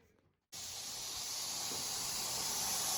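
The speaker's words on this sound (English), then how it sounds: "Here you're looking at a pressure relief valve for the steam heat." Steam hisses from a pressure relief valve on the old steam heating system of a factory. After a brief quiet start the hiss bursts on suddenly and stays loud and steady, growing slightly stronger to the end, with no talking.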